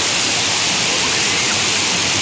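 A village waterfall swollen after three days of rain roars in a dense, unbroken rush of water, loud and close with no other sounds rising above it.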